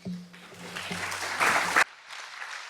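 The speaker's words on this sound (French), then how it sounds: "n'hésitez pas à applaudir" Applause from an audience at an evening ceremony for a national skills competition, broad clapping that swells toward the middle, stops abruptly, then resumes more softly, with a low voice briefly audible at the start.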